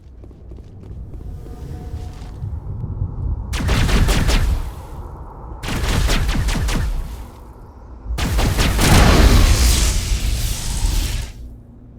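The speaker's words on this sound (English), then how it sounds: "they're shooting the heck out of that platform" Gunfire in the Mass Effect video game, loud bursts of rapid automatic shots in three separate volleys with quieter gaps between them, combat noise, no talking.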